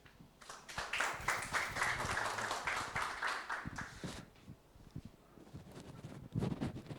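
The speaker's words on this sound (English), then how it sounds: "a round of applause" A round of applause at a business conference on the Thai Eastern Economic Corridor: scattered, moderately loud clapping for several seconds that thins out and fades, with some muffled rumble near the end.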